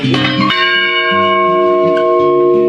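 Ninety-year-old church bells ring out with a loud, close strike at the start, then a long, bright, humming resonance that sustains and slowly layers with further tones.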